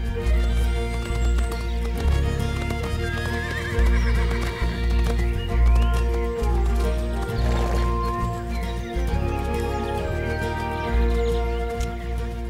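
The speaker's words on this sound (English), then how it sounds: "the Freiberger, also called the Franche Montagne horse, has been bred in Switzerland for the past 200 years" A Freiberger (Franches-Montagnes) horse in the Swiss Jura Mountains whinnies clearly while hooves clop in a steady beat, over a continuous tonal background.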